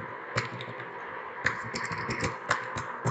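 A computer keyboard clatters with steady typing, close and clear, with a few sharper key strikes standing out from the run of quick taps.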